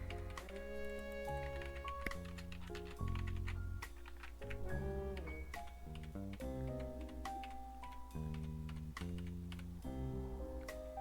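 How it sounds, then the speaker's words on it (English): Scattered sharp clicks on a computer while a cat-detective mystery game plays, heard over continuous melodic game music that is loud and fills the whole stretch. "Can you, like, hear me clicking?"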